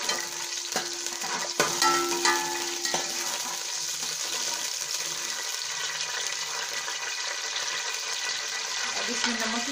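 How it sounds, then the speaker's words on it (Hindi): Cumin seeds fry in hot oil in a pan for aloo gobi, giving a steady, close crackling sizzle throughout with a few light clinks and stirs. "ये गर्म हो गया, इसमें जीरा डालेंगे। थोड़ी देर भून लेंगे।"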